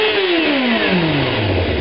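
Yamaha FZR600 1998 motorcycle engine, loud and close, its revs sweeping smoothly downward as the throttle falls off in one continuous falling whine.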